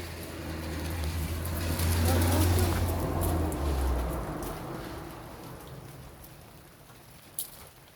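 Steady rain pours down during a moderate thunderstorm in Montady, France, with a low rumble of distant thunder swelling underneath, then easing; a faint tap near the end.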